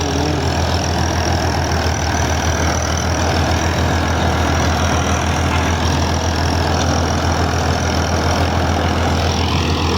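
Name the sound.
1971 Ford 4000 tractor engine running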